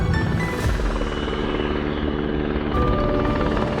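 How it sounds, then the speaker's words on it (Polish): A rescue helicopter during a cable car evacuation exercise, its loud steady rotor thump and engine roar filling the scene up close, with no voices over it. "Drugi scenariusz, ewakuacja przy użyciu śmigłowca."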